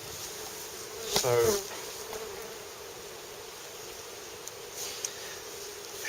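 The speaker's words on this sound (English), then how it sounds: "There's a few bees there, isn't there?" Honeybees at an opened hive during varroa treatment hum in a steady, soft drone, with a louder buzz as one passes close; a voice speaks briefly.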